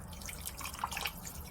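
A small splash of apple cider vinegar poured into a pot of bone broth gives brief liquid drips and a soft splash, heard alone over a low background rumble.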